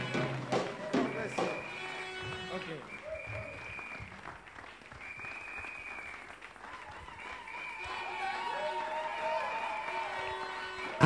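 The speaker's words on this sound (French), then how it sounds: "recevons sous nos acclamations dans le nom de Jésus" A church congregation welcomes Bishop Eddie Parker with sustained applause and scattered cheers, a continuous wash of clapping that swells toward the end while a voice speaks and sings over it.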